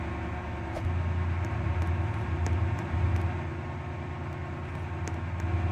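A three-coach train in the Stepford railway video game, a steady low rumbling drone of the moving train with faint periodic clicks, continuous and even without speech.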